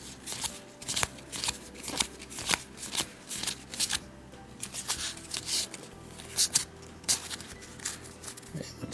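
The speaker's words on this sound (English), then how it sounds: "Let me look through the backs of the others and make sure there's no more black market cards, and I'll flip through those" Shadowrun Crossfire deck-building game cards flipped and shuffled by hand, a steady run of crisp papery riffles and snaps close up, with no talk over them.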